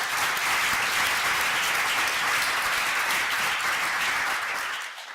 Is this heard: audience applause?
yes